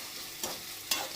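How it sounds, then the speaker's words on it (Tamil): Beans and mixed vegetables stir-fry for noodles, a steady sizzle broken by two quick scraping stirs of a spatula in the pan, close and without talk. "பீன்ஸ் நல்லா வதங்கிருச்சு"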